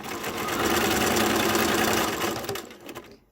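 A sewing machine runs steadily while stitching fabric face masks in assembly-line fashion, a dense continuous whir held for about two and a half seconds before slowing and stopping.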